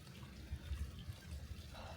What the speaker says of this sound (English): Just the water filters its way through the rock.